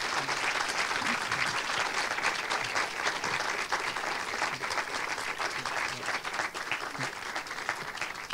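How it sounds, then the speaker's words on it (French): Sustained audience applause after a film screening and conversation with the speakers in a cinema venue, a full, even wash of many hands clapping with no break across the whole stretch. "Je pense qu'on peut les applaudir une nouvelle fois."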